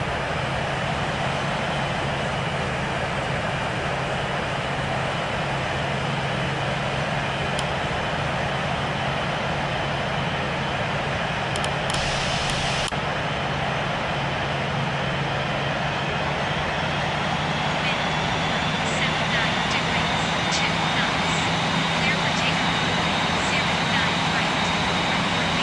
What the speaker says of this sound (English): Clear for takeoff runway 27 right.